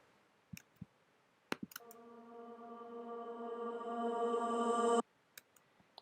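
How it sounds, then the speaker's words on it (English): A vocal chop's long reverb tail, frozen, flattened and reversed, swells as a sustained tone for about three seconds into an abrupt cutoff, framed by sparse sharp clicks. "froze, flattened, and reversed that big long reverb tail so it sounds like this."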